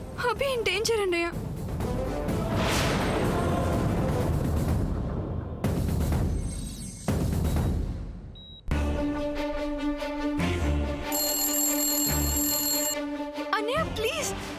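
An unanswered phone rings loudly and insistently in bursts, broken by short gaps and sudden cuts, amid dramatic background music and voices in a TV serial scene.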